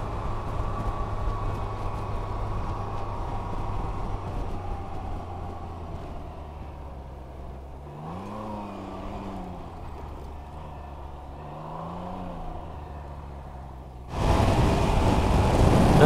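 A Can-Am Ryker 900 Rally three-wheeler runs with a steady engine drone that dips and rises as it revs between gears, then swells into loud rushing wind noise near the end; no talking.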